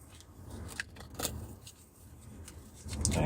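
A deck of tarot cards is shuffled by hand up close, with soft papery riffles and scattered crisp flicks, quiet at first and growing louder toward the end.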